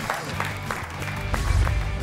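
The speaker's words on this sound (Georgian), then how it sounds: "აპლოდისმენტები" Studio audience applause at a televised comedy contest show, a continuous patter of many hands clapping with some voices mixed in, fairly close and lively.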